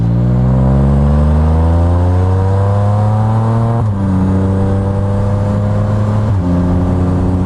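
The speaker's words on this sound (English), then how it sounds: "the exhaust makes a little pop sound when you shift" An F3 motorcycle engine revs up steadily, pitch climbing, then briefly dips at each gear shift with a small exhaust pop before climbing again, close and loud throughout.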